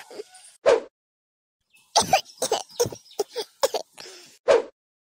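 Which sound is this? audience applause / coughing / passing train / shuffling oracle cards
coughing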